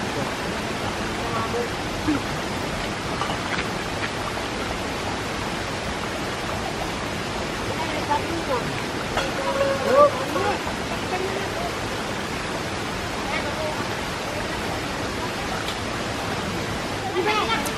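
A jungle waterfall pours steadily as a broad, constant roar of rushing water, close and full, with no breaks.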